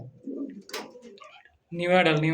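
A young adult pigeon at a pigeon market gives low, soft coos up close, followed by a person speaking.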